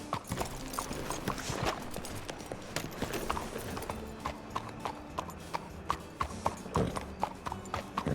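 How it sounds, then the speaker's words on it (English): Horse hooves clip-clop on the ground in the video game Red Dead Redemption 2, an irregular series of sharp, close hoof strikes with faint tack and equipment rattles in between. "let me hitch my damn horse"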